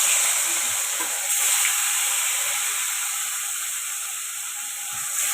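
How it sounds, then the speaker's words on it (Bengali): Fish sizzling as it hits hot mustard oil in a wok: a steady, loud, bright frying hiss that holds throughout, with faint stirring clicks underneath and no voices. "এই কড়াইয়ের মধ্যে তেলটা গরম হয়ে গেছে, তার মধ্যে আমি ছেড়ে দেবো মাছগুলো।"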